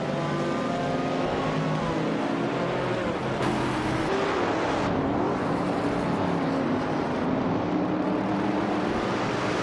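A 1968 Chevrolet Camaro Group 4 race car roars in a racing video game, a loud unbroken engine drone with shifting pitch and other cars blending in, no voices.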